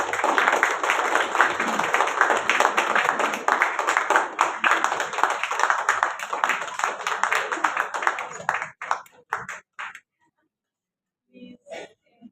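Audience applause at the COL Womania Award 2025, a charitable trust award ceremony: a dense, sustained burst of many hands clapping for about nine seconds that thins out and stops, followed by a few stray claps.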